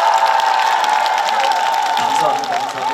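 Outdoor crowd at the Yongin Cheoinseong cultural festival concert applauding and cheering for a trot singer, a dense, steady wash of clapping and shouts with voices mixed in, tapering slightly toward the end.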